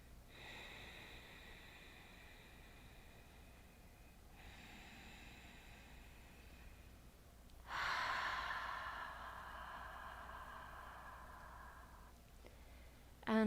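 Deep breathing held in a yoga pose for back strength: a few slow, drawn-out breaths, close and soft, with one louder, longer exhale toward the end over faint room tone.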